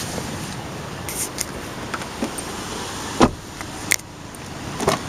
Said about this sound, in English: Power sunroof.